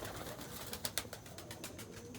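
A homing pigeon coos softly near the loft, a few low, rolling calls against a quiet background with no talk.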